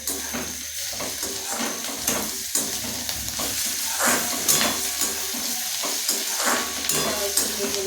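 Ginger paste fries in hot oil with chili, crackling loudly up close while a utensil stirs and scrapes the pan in quick irregular strokes.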